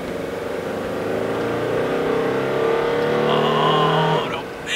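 A Toyota Camry with a damaged engine launches hard from a standstill, its engine note rising steadily through a few seconds of acceleration, loud and close, then cutting off.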